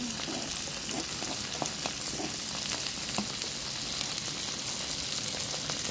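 Garlic sautéing in butter in a pan for honey garlic chicken, a continuous close crackling sizzle with light irregular pops throughout, no speech.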